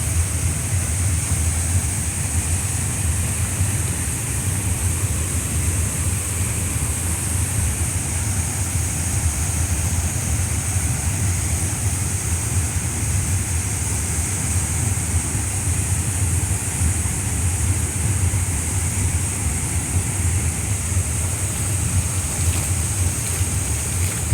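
A tall waterfall roars as a steady, loud, unbroken wash of rushing water with no pauses.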